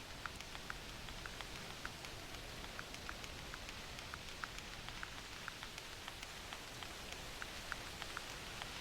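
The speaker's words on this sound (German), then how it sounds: "es fängt an zu regnen" Rain falls in the hunting video game theHunter Classic, a soft, steady wash with scattered light droplet ticks, quiet and continuous throughout with no voices.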